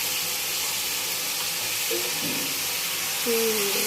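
Freshly picked Malabar spinach drops into a hot pan of shrimp curry, raising a loud, steady sizzle and steam hiss close up, with a few faint clinks near the end.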